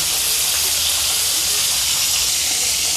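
Stuffed bitter gourd steaming in a pan gives off a steady, close hiss of steam that holds evenly throughout, with no talking.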